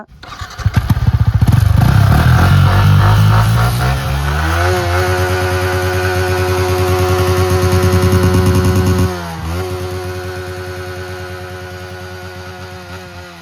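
A 2022 Yamaha MT-15 155cc motorcycle on its stock exhaust starts and is revved loudly and close up, rising into a sustained throaty drone that drops briefly near the end before settling back, with no talking.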